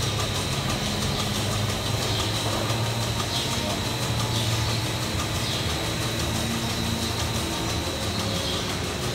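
Compressor running steadily in a New Zealand dairy farm milking shed, a continuous mechanical drone with a low hum and faint rhythmic ticking, moderately loud and unbroken throughout.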